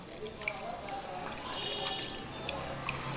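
Weight-loss juice poured through a strainer, a soft steady trickle and drip of liquid at close range, lasting a few seconds.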